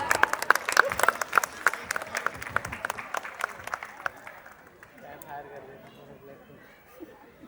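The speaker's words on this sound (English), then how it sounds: "I request everyone to please greet the moment with a big round of applause." At a school annual function, a crowd applauds to greet the chief guest, loud clapping for about four seconds that fades out into murmuring voices and chatter.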